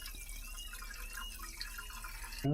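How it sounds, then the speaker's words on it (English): Water trickling and splashing into an old shallow well pump being primed by filling it from the top, a quiet continuous pour, ending in a sudden louder knock. "Just take this guy off here on the top and fill this with water."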